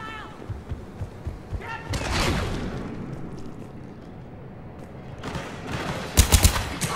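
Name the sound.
gunfire in a video game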